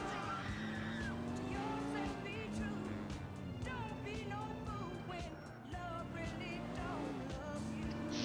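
A BMW-styled car in GTA IV drives with a revving engine whose pitch climbs and drops through gear changes, sustained and fairly loud, with speech present underneath.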